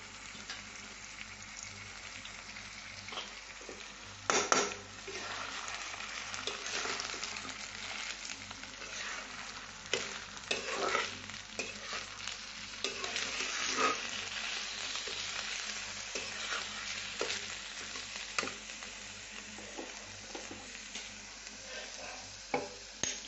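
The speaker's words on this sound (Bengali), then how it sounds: "চালটা একটু ভেজে নিতে হবে।" Soaked rice for a ripe-mango khichuri frying in a pan, a steady loud crackling sizzle broken by repeated scraping knocks of a stirring spoon, with no talking.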